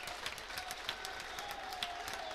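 A basketball crowd at the Capitol Center applauds, a faint, distant wash of steady clapping from the stands that runs through the whole moment.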